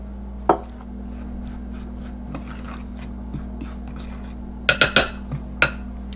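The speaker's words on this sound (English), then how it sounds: "I'm going to cut in some lard" Lard being cut into flour for biscuits, sparse scraping and rasping strokes with a few sharp metallic taps and clicks clustered near the end, over a low steady hum.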